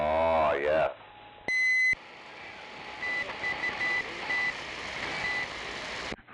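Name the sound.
beeping heard over radio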